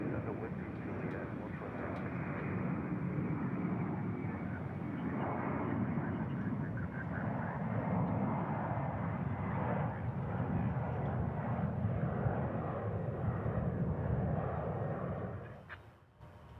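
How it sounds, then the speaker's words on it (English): A Lufthansa Airbus A340 airliner at DFW International Airport, a loud sustained jet engine roar rumbling evenly for about fifteen seconds before dropping off abruptly, heard from an outdoor spotting position. "Here's our A340 going back to Germany from Lufthansa."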